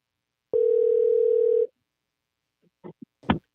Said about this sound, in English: Let's call Mr. Stokes.